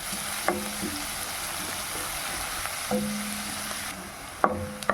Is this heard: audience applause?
no